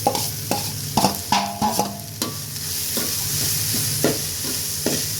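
Blood and onions sizzle steadily in a hot pan while a utensil stirs and scrapes, with several sharp clanks early on against a constant frying hiss.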